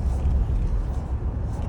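A 2024 Toyota Tacoma TRD Off-Road with the iForce Max engine pulls away under acceleration, its steady low rumble heard from inside the cab with no one talking.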